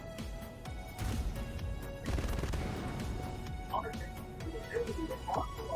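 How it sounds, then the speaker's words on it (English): Several sharp crashing blasts and thuds from a burst cannon firing in a video game, with one heavier burst in the middle, over low rumbling background noise. "Oh, the burst cannon just fired and I heard it."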